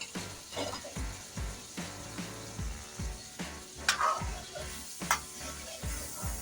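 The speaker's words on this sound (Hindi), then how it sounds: "अब इसको अच्छे तरीके से हमने भूनना है ताकि ये गोश्त अच्छे तरीके से गल भी जाए" Mutton with yogurt sizzles and fries steadily in a pan while being stir-fried for an almond mutton masala, with repeated scraping stirs and a continuous loud crackle.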